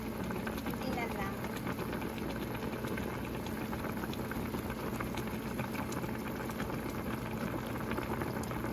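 Tinola soup boiling hard in a pot, a steady, dense bubbling and hiss that fills the whole stretch at close range.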